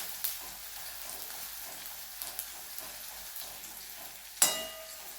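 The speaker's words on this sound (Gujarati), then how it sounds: "ડુંગળીને આપણે થોડી સાંતળી લઈશું।" Onion sautéing with curry leaves and chopped green chili in a pan, a soft steady sizzle throughout, fairly quiet, with a brief louder clatter near the end; no one talks.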